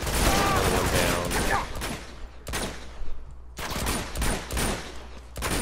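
Rapid bursts of gunfire in the video game Uncharted 2, loud and near, with sustained volleys broken by brief pauses.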